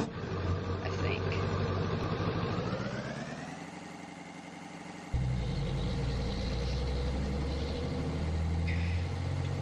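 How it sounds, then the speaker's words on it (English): A loud truck engine drones steadily from inside the cab as it drives, the pitch rising and dipping with gear and throttle, with a voice talking over the engine. "This truck is very loud, I think."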